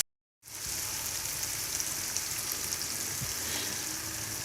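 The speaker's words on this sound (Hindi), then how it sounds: "ये हमारा सारा मसाला भुना जा रहा है और बड़ा ही अच्छा ये तैयार हो रहा है।" Masala spices roast in hot oil in a pan, ready for tinda gourd to be added, with a loud, continuous close sizzle that starts abruptly after a brief silence and stays even throughout.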